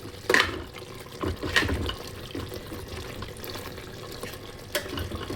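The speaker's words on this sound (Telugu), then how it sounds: "ఒక గ్లాస్ వాటర్ పోయాలండి" A glass of water poured into a pot of mutton coated in chilli powder, a splashy liquid pour with a few louder gushes, close by and alone.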